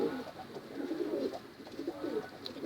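An Iraqi blue pigeon coos softly in low, rolling phrases, repeating twice at close range against a faint background.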